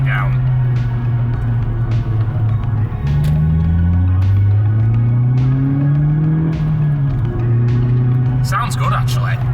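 An Audi S1 Quattro's engine climbs steadily in pitch as the car accelerates on the road, a loud, close, continuous note that rises, settles and builds again over a constant rush of road noise.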